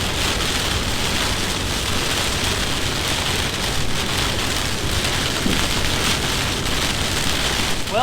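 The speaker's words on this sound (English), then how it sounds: "That last clip you saw of it raining, that was Friday evening." Steady heavy rain on a Friday evening on an east central Illinois farm at corn planting time, a dense unbroken hiss that stays loud and even all the way through, with no voices.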